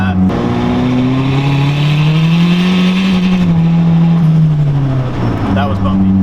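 A Honda Civic EG engine revs hard toward redline, its loud, sustained, rising exhaust drone close by under excited voices, with a brief dip near the end before it climbs again.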